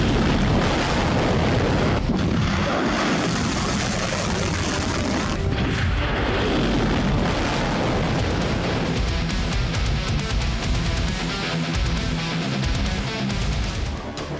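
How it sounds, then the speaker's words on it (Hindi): A Khaibar Shekan missile launch and blast comes through as a loud, sustained roaring rumble with heavy booming low end and wind-buffeted noise, continuous for the whole stretch with no speech. "IRGC ने जिस हथियार से निशाना साधा वो वेपन है खैबर शेकन मिसाइल।"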